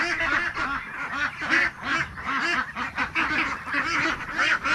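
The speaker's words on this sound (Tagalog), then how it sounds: "Yung mga manok ni Kuya Carmelo dito guys." Backyard chickens belonging to a neighbor cluck and squawk continuously in a lively, overlapping chorus, close by and fairly loud, with no talking.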